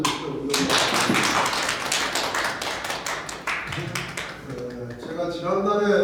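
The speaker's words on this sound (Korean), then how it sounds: "박수 한번 쳐주시죠." Applause from a seated audience at a year-end lecture and party, a dense run of claps filling the room at close range, with a voice speaking over the last part.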